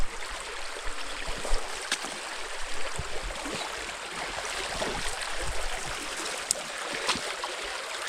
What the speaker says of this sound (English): The creek is right there